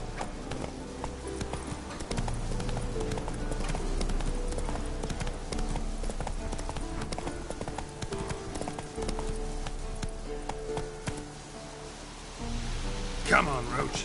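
Roach the horse trots in The Witcher 3 video game, with steady rhythmic clip-clop hoofbeats carrying throughout amid soft ambient game sound, while a voice speaks near the end.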